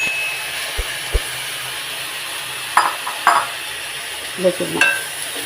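Squid thoran with turmeric being stirred in a pan for a Trivandrum-style kanava thoran, with soft sizzling underneath and occasional light scrapes and taps of the spoon against the pan, close by.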